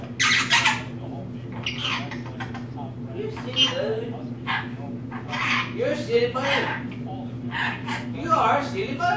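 A lorikeet lets out repeated harsh squawks and chattering calls in short bursts, close and fairly loud, over a faint steady hum.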